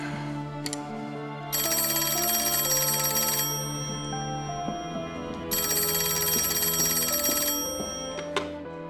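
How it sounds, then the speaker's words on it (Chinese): An old-style telephone rings in two long bursts of bright electronic trilling with a pause between them. It is loud and close in a quiet room with faint background tones, and no one speaks. "小梅啊，电话。"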